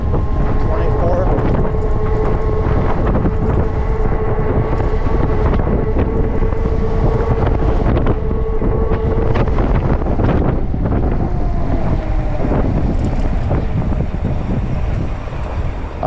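Steady, loud wind roar buffeting the microphone throughout while riding a full-suspension 20-inch fat tire e-bike, with a faint motor whine rising and falling underneath and brief bits of talk.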